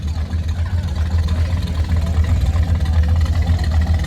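Steady low rumble of American hot rod engines running at an outdoor car and bike show, a continuous loud idling drone without distinct revs or starts, close by, with no voices.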